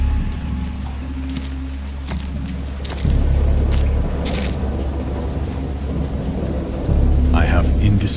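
Heavy thunder rumbles and rolls over steady rain in a great storm at sea, with two deep swells of thunder surging loud and close above the constant downpour.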